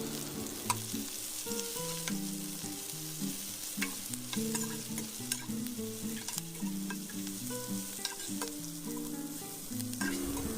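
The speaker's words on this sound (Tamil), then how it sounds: "இஞ்சியோட வாசம் போகிற அளவுக்கு பார்த்திங்கன்னா நீங்கள் நல்லா ஃப்ரை பண்ணிக்கோங்க" Crushed ginger and onions fry for a Chettinad chicken gravy, a steady close sizzle with occasional sharp pops and spoon scrapes over a low hum.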